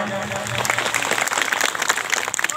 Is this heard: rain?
no